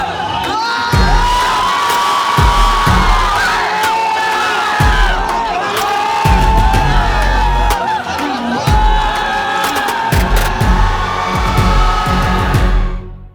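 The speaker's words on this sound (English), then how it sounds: "with the loudest cheer, put your hands together for Suriya!" Large live audience at a Pinkvilla event cheering wildly for actor Suriya, loud close screams, whistles and shouts in overlapping bursts, with sharp claps and thuds, tapering off at the end.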